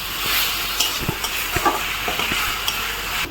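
Sajna drumsticks fry in hot oil in a pan, with a steady close sizzle and occasional soft clinks and knocks of stirring, no talking.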